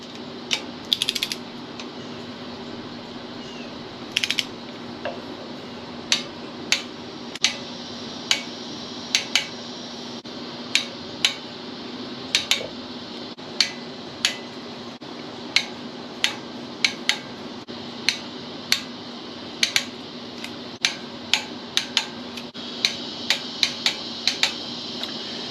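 A ratchet and socket tightening the rear axle bolts on a Fiat 124 during an axle rebuild, with rapid clicking bursts of the pawl repeating in short strokes over a quiet room, close and crisp.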